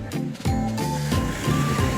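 Waves lapping onto a sandy shoreline in Santa Ana, Cagayan, with a steady washing surge that rises and falls close by, heard alone without talk.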